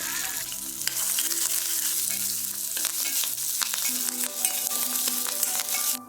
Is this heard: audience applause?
no